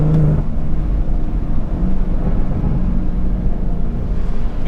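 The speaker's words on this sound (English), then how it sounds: "kind of hear the sound of the exhaust start to kind of come through" A 400 bhp 2019 BMW M140i with an AC Schnitzer ACS1 exhaust drones deep and steady from inside the car while downshifting, a loud low rumble with no talk.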